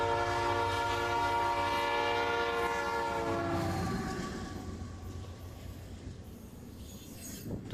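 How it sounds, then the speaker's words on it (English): A loud, sustained train horn blares, then gives way to the rumbling roar and rattle of a train rolling past close by, near Lake Superior. "it took the train about 5 minutes to make it here"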